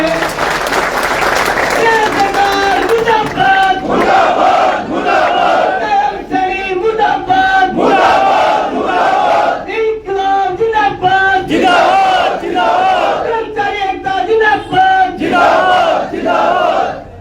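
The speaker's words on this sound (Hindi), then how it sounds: "जोरदार तालियां प्रधान जी के लिए" A large crowd claps and cheers loudly and continuously, with shouting voices rising and falling throughout.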